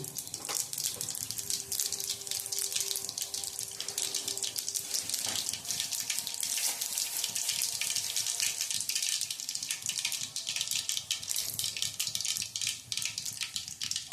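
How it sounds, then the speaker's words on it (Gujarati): Mustard seeds and cumin sizzle in hot oil in a pan while paneer butter masala is being cooked, a constant bright crackling hiss that stays loud and even throughout. "હવે આપણે એમાં નાખશું થોડીક રાઈ, થોડું જીરું"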